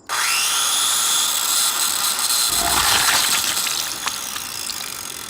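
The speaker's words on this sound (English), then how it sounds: "electric saw." Large electric saw whining as it cuts open a hard egg in an animated cooking scene, a loud steady power-tool drone that rises in pitch midway.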